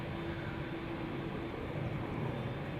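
Airliner at Amsterdam Schiphol Airport, KLM Flight 661 bound for Houston, gives a steady broadband jet roar, sustained and fairly distant, with a faint tonal hum running through it and no voices.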